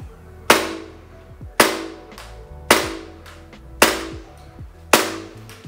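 An airsoft Glock 17/19 pistol fitted with an Acetech Bifrost unit fires BBs, five sharp, close cracks at roughly one-second intervals, each with a brief mechanical rattle afterward, no talking.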